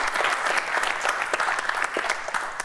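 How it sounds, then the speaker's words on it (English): A studio audience at a Nigerian family game show breaks into steady, dense applause that fills the room evenly, a continuous wash of many hands clapping with no voices above it. "Can we give him a round of applause?"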